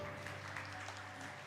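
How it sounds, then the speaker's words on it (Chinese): Applause at a church prayer meeting, a soft steady patter of many hands clapping from a small audience, heard faintly and continuously. "掌声欢迎，谢谢"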